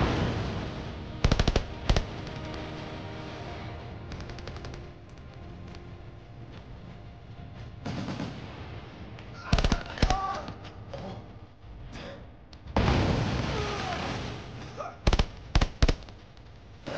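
Bursts of rifle and machine-gun fire plus a grenade blast from a Finnish war film about 1944 forest infantry combat crack out in sharp clusters, loud and close, separated by quieter stretches of rumbling background.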